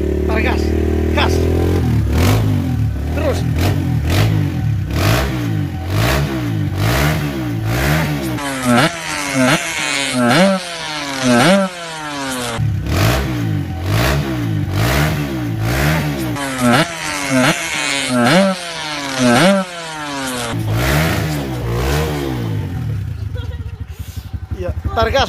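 A Kawasaki KLX 150 supermoto with a Norifumi RV 1 exhaust idles, then revs repeatedly in rising and falling bursts, loud and close. Voices talk faintly underneath.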